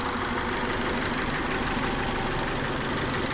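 A Dodge Neon 2.0 SOHC engine, freshly repaired after a head gasket job, runs at a steady idle with a constant broadband hum and no talking over it.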